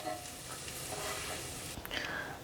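Cashews and raisins fry in ghee with a steady soft sizzle, and a spoon scrapes and stirs them out of the pan near the end in a brief clatter.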